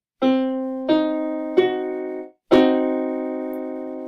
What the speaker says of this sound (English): A diminished triad sounds like this.